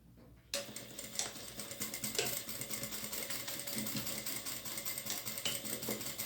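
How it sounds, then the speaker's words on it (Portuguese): A sewing machine stitches a one-centimetre seam at the back of a zipper, starting abruptly after a moment of quiet and then running as a steady, fairly faint mechanical whirr with a fast needle patter. "encontro as duas pontas e vou fazer uma costura de 1 centímetro"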